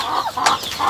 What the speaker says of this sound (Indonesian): Di sini saya juga membesarkan ayam tetapi tidak terlalu banyak